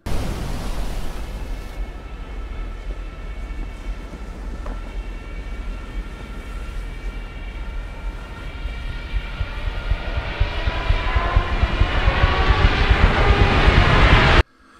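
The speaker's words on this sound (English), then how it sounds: "the soldiers are horrified to find an enemy fighter jet lining up to bomb them again" An enemy fighter plane approaches in a Dunkirk war film scene, a broad roaring drone that swells steadily louder over the whole stretch and cuts off abruptly at the end, with no talk.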